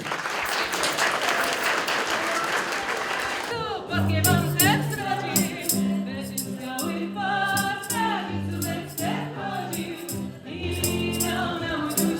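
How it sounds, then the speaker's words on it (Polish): Audience applause after a carol-singing event at a care centre in Nowy Targ, dense clapping for about four seconds, then cut off by music and singing voices for the rest. "Wielkie brawa dla nich"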